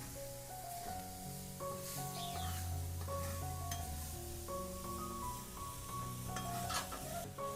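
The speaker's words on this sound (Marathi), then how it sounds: "तर मित्रांनो मंद आचेवरच हे सारण भाजून घ्यायचं आहे।" Modak filling roasts over a low flame in a village kitchen pan, a soft steady sizzle and stirring scrape running throughout beneath a layer of tonal background music.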